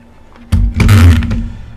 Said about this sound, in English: Why does my keyboard make such a funny sound when I move it?